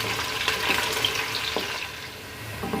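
Sliced onions fry in oil with bay leaves in a pressure cooker, giving a continuous close sizzle broken by faint scraping and clinking from stirring.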